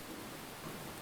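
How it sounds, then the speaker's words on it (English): Rain falls in the video game Enshrouded, a brief, steady broadband hiss of downpour with no distinct drops or voices. "Rain's coming in."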